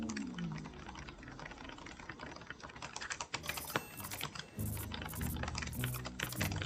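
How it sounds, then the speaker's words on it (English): Computer keyboard arrow keys are pressed in rapid, loud, clacky bursts during gameplay of Anodyne, with dense irregular tapping throughout and a louder, more spaced clatter of key hits toward the end. "my friggin' arrow keys are making some really fat noises"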